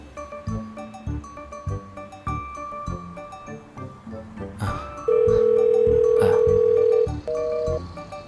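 A steady electronic ringback tone sounds for about two seconds while a phone call is placed, then shorter tone bursts follow, all over a continuous background music score with no talking.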